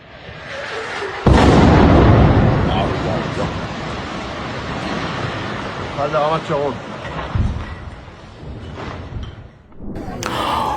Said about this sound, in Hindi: ये मंजर है जब तेल अवीव पर आकर एक मिसाइल गिरती है